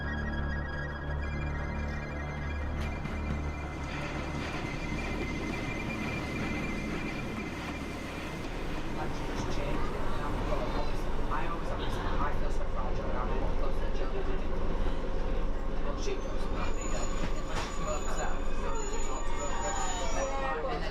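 Rumbling rail noise of a train on the Leeds–Harrogate–York line crossing a viaduct over the River Nid into a station, steady low clatter and hum that grows slightly louder midway, with a faint high squeal near the end.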